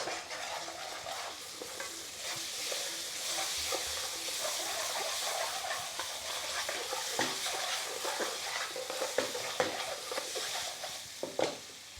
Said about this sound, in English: I want to cook the tomato paste out.